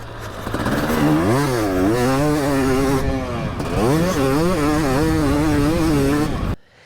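A Husqvarna fuel-injected two-stroke motorcycle engine revs loudly and close, its buzzy pitch climbing and dropping repeatedly before cutting off abruptly.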